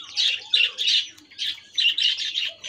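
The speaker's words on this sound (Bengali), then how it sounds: "পাখিগুলো খাবার জন্য চিৎকার করছে।" A colony of white, yellow and lutino budgerigars chirps and squawks loudly for food in rapid overlapping bursts, close and insistent throughout with no voices.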